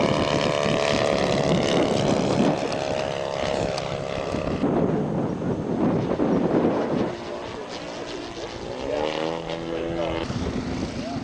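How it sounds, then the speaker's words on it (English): A scale model RV aircraft makes a flyby, its propeller engine droning loudly with a shifting pitch as it passes, and the whine fades slightly and changes tone near the end. "flying his RV, tried and true, on a flyby"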